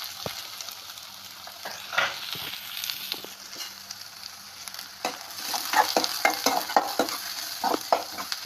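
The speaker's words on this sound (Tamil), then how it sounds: "கடுகு பொட்டினதும் வெங்காயத்தை சேர்த்துக்கிடலாம்" Onions go into hot oil where mustard seeds are spluttering, giving a continuous sizzle. Dense crackling pops grow busier in the second half, along with spoon scrapes against the pan. No one speaks.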